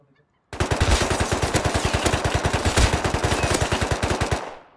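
Rapid automatic gunfire from a video game firefight, a loud, steady burst of closely spaced shots running about four seconds with no talk over it, then cutting off.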